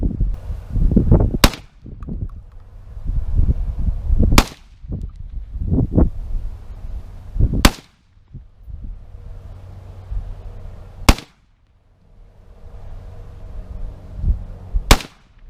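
Five loud, sharp gunshots fired at a target while testing a red dot sight, spaced about three seconds apart, each cracking out over quieter handling noise between shots.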